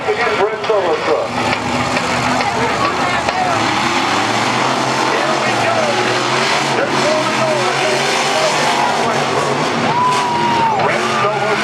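Monster truck engines roar continuously at an arena event as Avenger races Red Solo Truck, loud and sustained with shifting revs, mixed with crowd din and an announcer talking over it.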